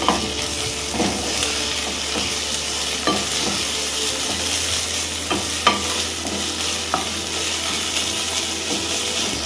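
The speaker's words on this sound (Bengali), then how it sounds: "তারপর আমরা এর মধ্যে দেবো আদা রসুন বাটা, দিয়ে আবার আমরা ভালো করে এটাকে কষিয়ে নেব।" Onion sautéing with ginger-garlic paste in a pan makes a continuous crackling sizzle, with repeated spatula scrapes and knocks as it is stirred steadily throughout.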